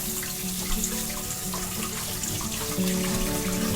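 Running tap water streams over ears of corn at a sink as they are washed, a steady close rush of water with small shifts as the corn moves under the flow.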